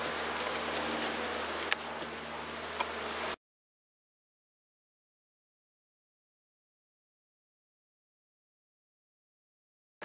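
Honey bees in a hive roar with a loud, dense buzzing hum close by for about three seconds, then the sound cuts to silence.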